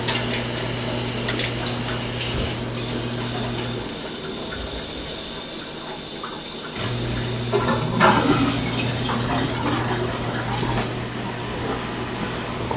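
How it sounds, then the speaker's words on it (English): Tap water runs into an empty evaporated milk can in a home kitchen, a continuous rushing, gurgling flow with a low hum beneath, steady and fairly close, without any talking. "empty it out, and then fill it back up with water."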